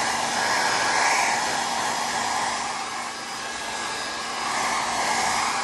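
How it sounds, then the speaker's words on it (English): A hairdryer blows steadily over fresh paint on a Fujimi 1/24 Blade Runner Spinner model kit, a loud, continuous close-up whoosh with a slight dip in strength midway. "add the hairdryer"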